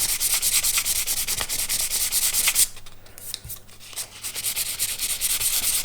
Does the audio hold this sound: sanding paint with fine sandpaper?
yes